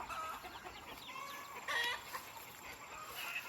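Chickens on a rural property, spooked by a hawk, cluck and squawk in short agitated bursts at moderate distance, with a louder cluster midway over faint outdoor background.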